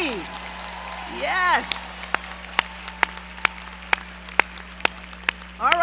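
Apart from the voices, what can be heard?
audience applause for graduating class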